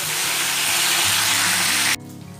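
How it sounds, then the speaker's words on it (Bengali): Dried loitta fish sizzling in mustard oil in a pan, a loud, dense hiss that stops abruptly near the end, leaving a faint quieter residue. "শুটকি মাছগুলো আমি সেদ্ধ করে নিয়েছি, এবার এগুলোকে আমি ভেজে নেব।"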